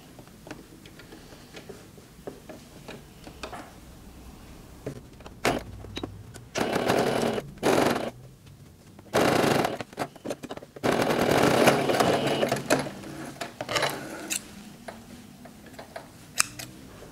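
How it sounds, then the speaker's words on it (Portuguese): A domestic sewing machine stitches a pleated 3D fabric face mask, with short clicking bursts and longer whirring runs of stitching, including backstitching, close by and without talk. "Agora vamos, pezinho de máquina. Começa com retrocesso e termina com retrocesso."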